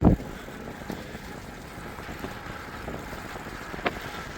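Headwind buffeting a microphone while cycling in Japan, a steady rumbling wind roar with a few gusty bumps, close and continuous, no talk.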